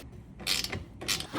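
Bolts are turned out of an EZGO golf cart, giving two short bursts of close metallic ratcheting and creaking separated by a brief pause.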